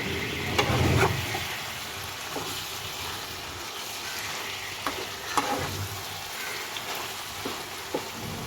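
Cabbage with a fish head cooks in a pan with very little water, giving a continuous loud sizzle and frying crackle. Occasional soft stirring clicks and pops sound throughout.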